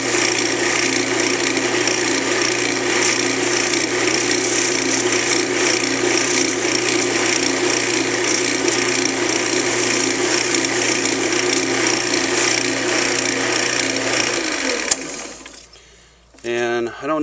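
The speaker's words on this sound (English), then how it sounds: "I'm going to kind of burnish the wood a little bit." Steel wool is rubbed over wood on a slip cork in a steady, continuous abrasive hiss with a constant hum underneath, heard close up for about fourteen seconds before the rubbing stops.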